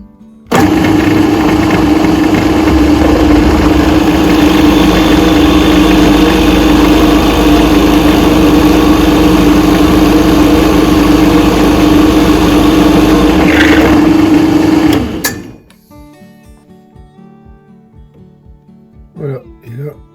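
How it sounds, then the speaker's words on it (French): A drill press bores into wood for a hand plane handle, its motor giving a loud, steady hum for about fifteen seconds before cutting off and winding down to quiet. "j'ai réglé ma perceuse à colonne pour descendre exactement à cette distance là"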